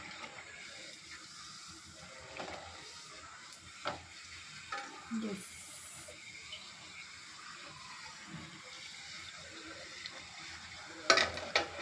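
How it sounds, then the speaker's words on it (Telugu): Puris deep-fry in hot oil for pani puri, giving a soft, continuous sizzle and bubbling hiss, with occasional light stirs and clinks of a utensil near the pan. "మళ్ళీ డీప్ ఫ్రై అయిపోతుంది, తీసుకుంటాను."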